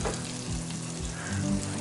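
Onions frying in a Field Company cast iron skillet, a brief dense sizzle up close with a soft stir partway through.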